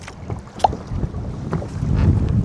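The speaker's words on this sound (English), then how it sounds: "the wind, can you guys hear that? The wind is insane right now." Strong sustained wind roars across a fishing boat on open water, loud and buffeting the microphone, with water sloshing against the hull and no speech.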